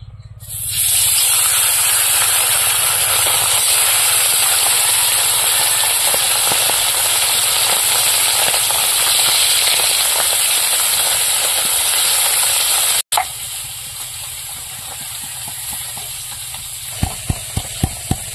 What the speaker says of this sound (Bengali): মাছগুলো ভাজার জন্য কড়াইতে তেল দিয়ে দেবো।